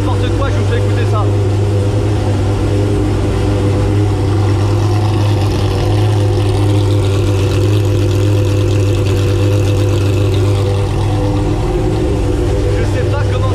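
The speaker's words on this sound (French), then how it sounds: "La voiture fait un bruit, c'est n'importe quoi, je vous fais écouter ça." Race car engine fitted with a non-original exhaust, a loud, continuous low drone with a strong steady hum and rough rumble that fills the whole stretch at close range.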